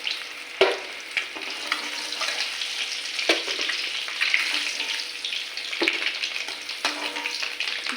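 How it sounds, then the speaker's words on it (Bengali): Eggs frying in hot oil in a kadai make a steady, close crackling sizzle, broken by a few sharp clacks of a spatula against the pan. "ডিমগুলো ভালো করে লাল লাল করে ভেজে নিই।"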